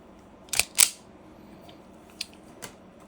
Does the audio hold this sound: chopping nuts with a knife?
no